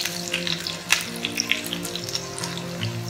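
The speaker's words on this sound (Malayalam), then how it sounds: "ഇഞ്ചി വെളുത്തുള്ളി പച്ചമുളക് റഫായിട്ട് ഞാൻ അരിഞ്ഞു വെച്ചിരിക്കുകയാണ് അത് ഇതിലേക്ക് ആഡ് ചെയ്യാം അതിന്റെ പച്ച മണം പോകുന്ന വരെ ഒന്ന് ഫ്രൈ ചെയ്ത് കൊടുക്കാം" Chopped ginger, garlic and green chilli fry in a pan with a crackling sizzle full of small pops and spits, near and fairly loud, and nobody speaks.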